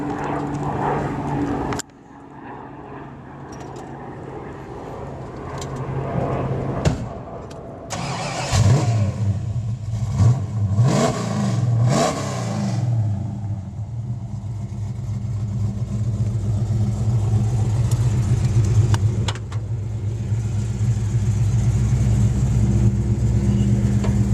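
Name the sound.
1964 Ford Falcon convertible engine starting and running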